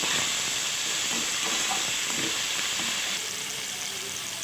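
Garlic ginger paste frying with browned onions in a pot for Karachi chicken biryani, a loud, steady hissing sizzle that runs continuously and eases slightly toward the end.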